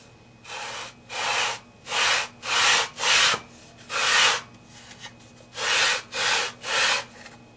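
Wood sanded flat at a guitar neck joint in a series of loud, steady back-and-forth rasping strokes with brief pauses between them, close up and with no talking.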